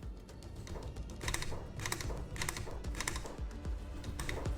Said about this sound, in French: Comme il matraque son clavier pour faire pause,